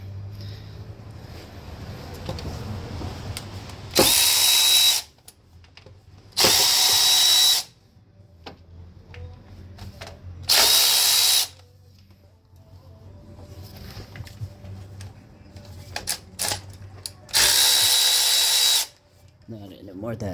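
Four loud bursts from a power tool, likely an impact gun, loosening bolts during a Nissan timing chain replacement, each lasting one to two seconds with quiet workshop gaps and low murmurs between.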